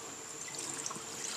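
About 500 ml of apple juice poured into a pan, a steady, faint liquid trickle lasting a second and a half, close by with no talking.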